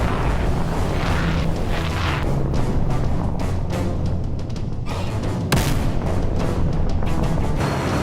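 A long-range hypersonic missile launch, a loud sustained roaring blast with rumbling bursts that holds steady across the whole stretch, with no talking.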